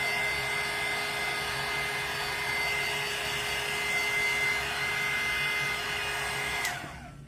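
A hair dryer blows steadily at close range while drying a small craft piece made of Jenga blocks, a continuous loud whir with no voices, cutting off abruptly near the end.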